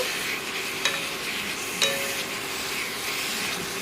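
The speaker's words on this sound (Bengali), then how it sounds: "ঘি দিয়ে দিই ঘিটা দিয়ে নাড়িয়ে" Carrot halwa cooks in ghee in a pan, giving a steady soft sizzling hiss close by, with two sharp clinks of a spoon against the pan as it is stirred.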